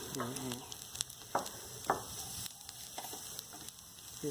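Shrimp frying on an AJ EG-002 electric hotpot grill, a steady close sizzle with scattered sharp pops and crackles throughout.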